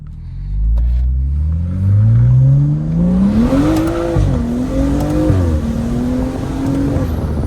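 A BMW with an N55 engine roars up a canyon road, its revs climbing loud and close through a couple of gear changes with a brief dip between, recorded from inside the car.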